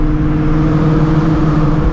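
A supercharged Shelby GT350 Mustang running on E85 drones steadily from inside the cabin, a loud low engine hum with a sustained tone and no voices.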